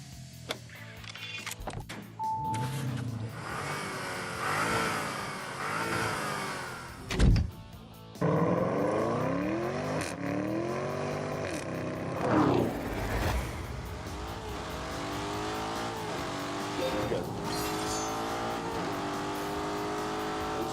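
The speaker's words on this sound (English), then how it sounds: "Turbochargers may be a little bit annoying on the road, but here they're giving with a low down torque that I need to get up this hill." A Lamborghini Urus with a turbocharged engine climbing a hill in a driving video game, its engine note rising and falling through repeated revs and gear changes, loud and close, with a few sharp transient clicks.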